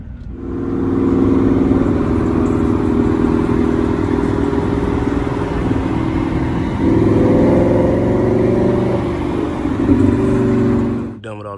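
A 2021 Ford Mustang GT's engine running nearby, a steady loud rumbling drone with a brief rise in pitch partway through before settling, no talk over it.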